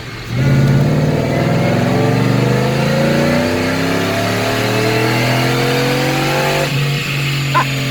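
Loud, close engine of a supercharged 2017 Ford F150 Roush Nitemare during a dyno pull, with a sharp burst of revs sweeping steadily upward in pitch before cutting off near the end.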